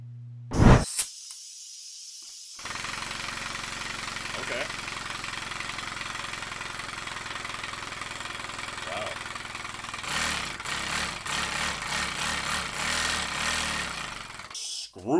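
A 3D-printed air-powered engine with VTEC-style valve timing runs on compressed air at 60 PSI, starting after a hiss and some handling noises, then a steady mechanical chugging that grows busier and louder toward the end.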